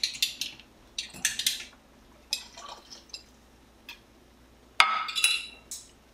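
Hot glass canning jars clink and chink against each other in a few bright, brief bursts separated by quiet gaps, close by in a kitchen.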